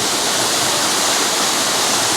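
Steady broadband rush of a waterfall, a continuous loud roar of falling water with no pauses and no voices.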